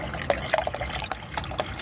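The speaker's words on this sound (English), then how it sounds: "We're going to go straight with tap water because it's going to fill one heck of a lot better." Tap water pours into a portable Geyser shower container, a gallon-sized tank, with uneven splashing and dripping bursts, close and moderately loud, with no talk.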